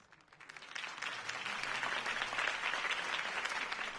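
Crowd applause rises and holds steady after a campaign speech in the Telltale Batman video game, a dense, sustained wash of clapping building over the first second with no talk over it.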